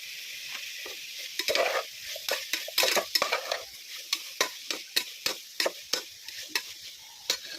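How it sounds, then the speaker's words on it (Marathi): Onion with turmeric frying in oil for a biryani, a soft constant sizzle under repeated sharp clacks of a spoon stirring against the pan, close and rhythmic, with no talking. "तर छान असं फ्राय करून घेणार आहोत तेलामध्ये"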